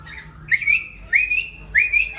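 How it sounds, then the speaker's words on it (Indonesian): Three rising notes from an ultrasonic whistle used to train a black-capped lory chick, each sliding up then holding steady, repeated at regular intervals, clear and close over a quiet background. "posisi juju kita pakai peluit ultrasonik"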